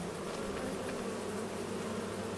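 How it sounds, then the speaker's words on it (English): Bees buzzing at beehives in Farming Simulator 25, a steady, dense insect drone that holds evenly throughout without breaks, close and moderately loud, with no talking over it. "So the smoke is calming the bees."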